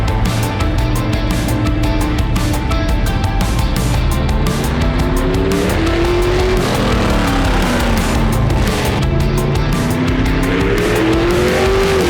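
Race car number 201 drives on a track during testing, its engine loud and continuous, revs rising and falling through gear changes with bursts of tire noise throughout.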